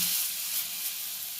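Chickpea dal fritters fry in hot oil in a wok, giving a steady, loud, close sizzle with no voices.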